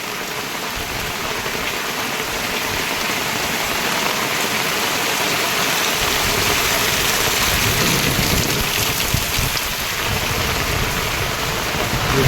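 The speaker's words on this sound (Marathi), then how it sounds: "विजा पण कडाडत आहेत पावसामुळे मोठा आता परत पाऊस चालू झाला आहे" Heavy, steady rain pours down continuously, with a low rumble of thunder in the background; no voices.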